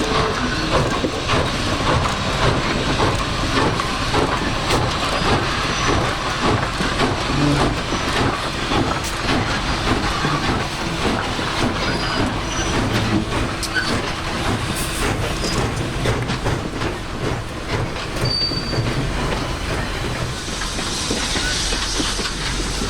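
Nickel-plated N&W 611 steam locomotive with 70-inch drivers thundering past at speed on a photo charter, a loud, steady wall of exhaust chuff, hissing steam and rail clatter sustained throughout, with a sharp whistle-like tone near the end.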